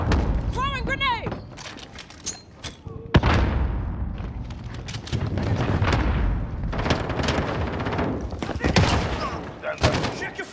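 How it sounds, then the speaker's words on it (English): Heavy gunfire and booming blasts fill a first-person shooter firefight, with a thrown grenade going off among bursts of rifle fire; loud, dense and continuous, with sharp peaks near the start and later, while radio-style voices talk over the action. "Throwing grenade!"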